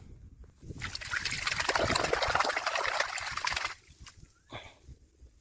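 Rice plant roots are rinsed in water, giving a loud, steady sloshing and splashing for about three seconds, then a few smaller splashes and drips close by.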